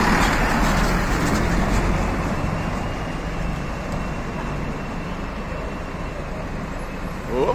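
A city bus pulls away from the Terminal de Cascadura, its engine a steady, close rumble blended with continuous traffic noise that holds at an even level throughout.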